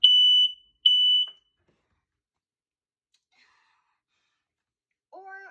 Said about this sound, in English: This is what your home smoke alarm might sound like.